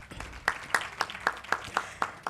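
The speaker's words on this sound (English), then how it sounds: "Can I have a round of applause for them" An audience applauds the session panelists at the ISpA Indian Space Conclave, heard as a short run of evenly spaced, distinct claps in a hall, moderately loud with no voice over them.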